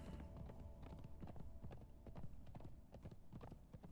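Hooves of an undead horse in the Conan Exiles video game pound in a fast, continuous galloping rhythm, faint and steady throughout with no talk.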